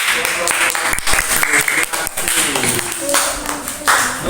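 An audience claps for a group at a school session, a dense, steady round of applause that carries on through the whole stretch, with a voice speaking faintly over it.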